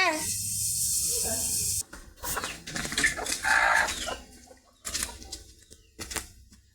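Three domestic ducks kept at home, calling at feeding time with short, rough squawks and clucking bursts, close by, with some voice mixed in.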